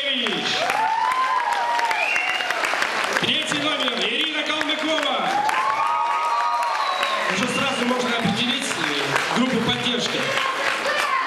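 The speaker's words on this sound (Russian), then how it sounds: "Жидкие аплодисменты." Thin, scattered applause rises from the audience at a small-town beauty pageant while a voice announces over it, its pitch wavering and dominating the patchy clapping from the hall.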